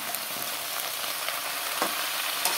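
Spices and green chilies fry in a pan with a steady, dense sizzle and faint stirring scrapes, close and continuous with no voices.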